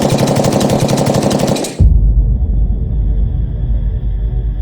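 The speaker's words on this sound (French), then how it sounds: "Très vite, des rafales de balles retentissent non loin de la position du convoi." Bursts of automatic gunfire close to a military convoy in the bush during the Anglophone crisis in Cameroon, a loud rapid rattling volley cutting off abruptly into a deep, heavy rumble.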